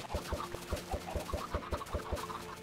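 Chickens in Minecraft, modded with Industrial Craft 2, cluck steadily in a dense, repetitive flock chorus with a regular pulsing beat, continuous throughout and with no talking.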